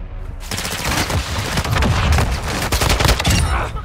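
Dense, loud automatic gunfire in the Call of Duty DMZ video game, a near continuous rattling fusillade of overlapping rapid shots lasting several seconds.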